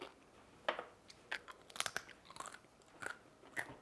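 Crisp crunching bites and chewing, several sharp crunches in quick succession with short pauses, close to the mouth.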